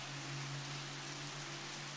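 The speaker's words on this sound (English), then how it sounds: "It's pouring rain." Heavy pouring rain in a city, a steady broadband hiss close to the listener, with a low constant hum running beneath it.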